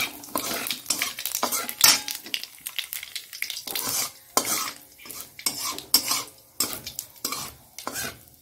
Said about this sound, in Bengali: এইখানে তেল গরম হয়ে গেছে, এইখানটা হলো কালো জিরে আর শুকনো লঙ্কা দিয়ে দিলাম।